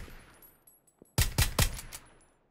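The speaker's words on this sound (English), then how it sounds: "I'm going to try and use the VSS to lob some of those 9mm bullets over there" VSS rifle in PUBG fires 9mm rounds, three quick suppressed shots in a tight burst after a near-quiet stretch, each with a short thump and brief tail.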